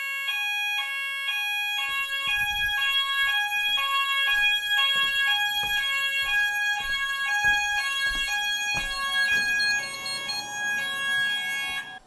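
An addressable fire alarm system sounds during a test: a loud, continuous electronic alarm of repeating stepped tones, steady and close throughout with no talking.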